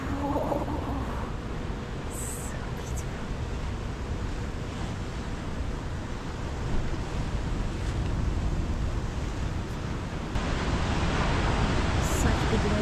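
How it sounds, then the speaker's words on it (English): Big ocean waves wash against a North Korean coastline in a steady, loud surf roar mixed with wind, swelling slightly louder toward the end. "Such big waves."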